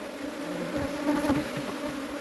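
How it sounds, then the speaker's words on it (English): Steady, close buzzing of many honeybees shaken from comb while a hive is split, a dense continuous drone with a low hum that swells slightly midway. "So we're going to just shake these bees off in here"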